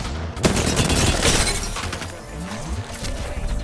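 A grenade goes off in Apex Legends gameplay: a loud, sharp shattering blast near the start, then a noisy crackling tail that decays over a few seconds, with game music and effects underneath.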